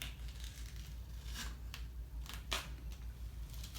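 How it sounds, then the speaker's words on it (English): Quiet scraping and slicing strokes of a box cutter cutting along a knee brace cast tube, a few short rasping cuts in irregular rhythm against a low hum. "take the box cutter and cut along the tube to remove this"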